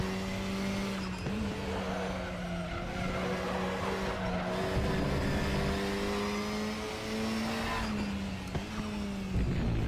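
A GT4 race car in the RaceRoom racing game, its engine growling raspily at high revs, loud and continuous with small pitch shifts as it shifts and holds speed.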